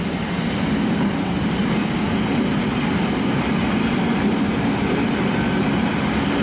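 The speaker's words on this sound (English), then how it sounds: "no idea what kind of locomotive that is or who it belongs to" Locomotive-hauled train at Budapest Kelenföld station rolls past close by, giving a constant loud rumble with wheel noise and faint clatter throughout.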